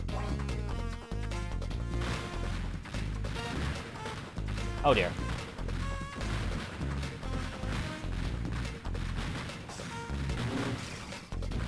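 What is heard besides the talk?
missile explosions in The Incredibles GBA video game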